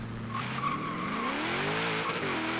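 A Ford Mustang Boss 302 in Forza Horizon 3 launches hard, its engine rising steadily in pitch with squealing tires, loud and close throughout the short run.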